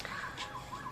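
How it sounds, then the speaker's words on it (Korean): Emergency vehicle siren wailing outside in dry weather, its rising and falling tone faint and distant, heard alone through a room. "밖에 사이렌이 울리네."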